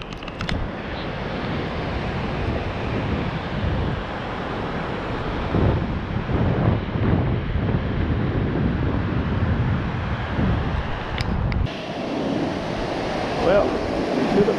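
Ocean surf rolls and washes up a beach in a continuous hiss and roar, mixed with gusting wind buffeting the microphone, with no clear break between waves.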